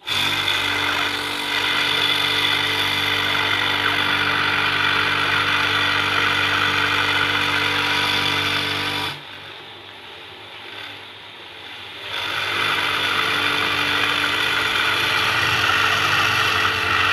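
Pressure washer spraying into the drain hole of a Panasonic air conditioner during cleaning, a steady loud hissing roar that cuts out for about three seconds midway, then resumes.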